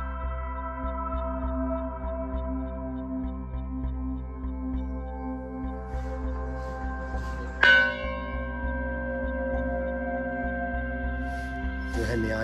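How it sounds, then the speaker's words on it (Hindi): Temple bells ring at the Golu Devta temple in Chitai, Almora, Uttarakhand, where many bells hang. Overlapping metallic tones sustain throughout, with a loud, sharp strike near the middle that rings out over a steady low hum. "यहाँ बहुत सारी घंटियाँ टंगी रहती हैं, तो इसलिए इसको घंटियों वाला मंदिर भी बोलते हैं।"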